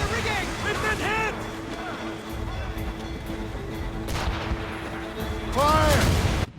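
Ship cannons boom in a naval battle in Assassin's Creed Rogue, heavy blasts over a steady roar of wind and sea, with shouted commands from the crew loud on top.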